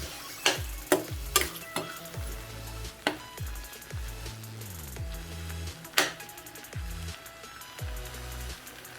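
A pan of potato masala for poori being stirred and mashed with a spoon, with repeated scraping knocks against the pan at an irregular rhythm over a soft steady sizzle, close up and without talk.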